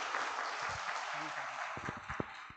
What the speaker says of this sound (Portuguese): vamos receber com muita alegria, uma salva de palmas, o nosso bispo, Dom Tiago.